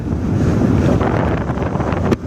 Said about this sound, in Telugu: విండ్షీల్డ్ తీస్తుంటే ఫుల్ చలి, లోపలికి గాలి కొట్టేస్తుంది ఫేస్ మీదకి.